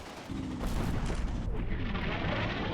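Artillery fire in the WWII game Combat Mission Final Blitzkrieg, with shells landing on a town where infantry and a Flak 36 sit. Dense, rumbling blasts run through the whole short clip with no talking.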